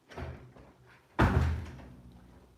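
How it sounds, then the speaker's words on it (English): A door slams shut indoors with one loud, close, heavy thud and a brief rattle that fades over about a second, after a softer earlier movement, with no speech. "close my freaking door"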